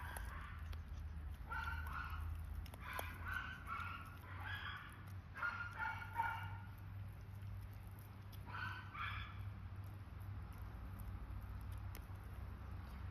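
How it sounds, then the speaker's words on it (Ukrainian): Italian greyhound puppy eating a meat mix made for puppies, with repeated soft wet chewing and lapping bursts close by over a steady low hum, no talking. "Малюк є не як пташечка, а як нормальна собака їсть м'ясо."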